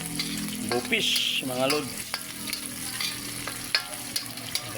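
Food sizzles steadily in a pan at close range while it is stirred, with occasional scraping taps from the utensil and someone talking over the frying.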